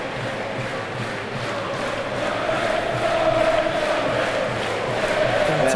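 Football crowd at a Sheffield Wednesday v Bristol City match, a steady, dense roar of many voices filling the stadium, swelling slightly louder toward the end with no single voice standing out.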